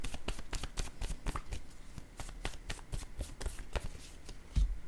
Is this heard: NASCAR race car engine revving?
no